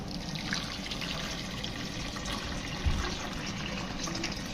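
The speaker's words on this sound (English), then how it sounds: "I'm going to go ahead and pour in my juice" Homemade tomato juice is poured into a strainer, giving a soft, steady trickle and splash of liquid heard quietly at close range, with one slightly louder bump partway through.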